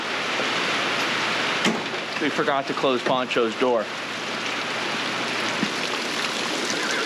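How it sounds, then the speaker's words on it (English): Heavy rain pouring outdoors at a horse property, a loud, constant hiss of falling water and splashing that persists throughout, with someone briefly talking over it midway. "Not gonna lie, the rain actually feels really nice."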